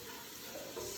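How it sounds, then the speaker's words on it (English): Leftover turkey simmering in a hot pan on medium heat, a steady close sizzle and bubbling with no voices. "we want this to simmer for about, I'm going to say probably about 4 to 5 minutes on medium"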